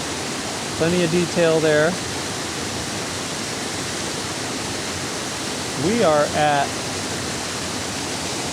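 A waterfall's fast-moving water produces a constant broadband rush that fills the scene, with someone briefly speaking over it twice.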